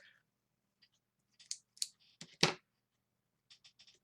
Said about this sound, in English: I'm not being super finicky about how I cut this out